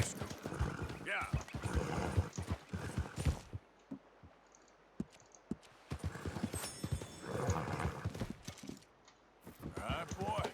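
Horse hooves clip-clop in bursts with a brief whinny in Red Dead Redemption, while someone speaks briefly between the hoofbeats.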